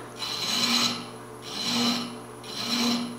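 A thread chaser cuts a thread into wood turning on a lathe, making three rhythmic rasping passes about a second apart, each rising and fading with a scraping hiss over a low motor hum, close and unaccompanied by talk.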